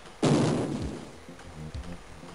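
A single loud gunshot blast in the German-language military video game Z, with a sharp onset and a long decaying boom, followed by fainter rumbling thuds and softer distant pops.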